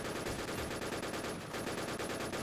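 Rapid automatic gunfire in a Lego-themed shooter game map, a dense continuous stream of shots at steady volume with no talking.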